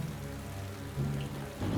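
Steady rain pours down in winter in the San Gabriel Mountains, a dense, continuous hiss with low rumbling swells that grows louder toward the end, with no voices.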